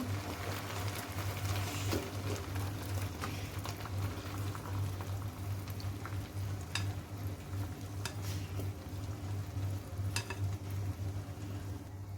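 A semolina halwa mixture (sooji makhandi halwa) is stirred steadily in a pan in a home kitchen, giving a continuous soft bubbling, scraping texture with occasional faint clicks, close and even throughout.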